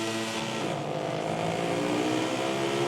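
Racing motorcycle engines rev loudly and continuously as a MotoGP 19 video game race starts, a dense, sustained roar from a pack of bikes with no voices over it.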